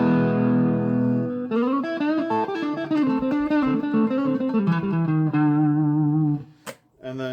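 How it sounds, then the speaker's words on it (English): A Kramer Focus VT-211S electric guitar plays clean through its neck pickup, with warm sustained notes and a melodic phrase after a held opening chord, ending in a sharp noisy click as the sound cuts off. "This is just the neck pickup."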